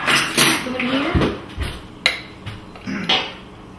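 A small spoon clinks and scrapes against dishes in a home kitchen, producing several sharp, close metallic taps spaced irregularly, with a muffled voice-like murmur in between.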